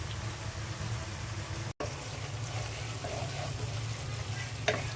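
Small chops frying in hot oil for a pabda fish curry, with a steady close sizzle and bubbling throughout, a brief dropout near the middle and a small clink near the end.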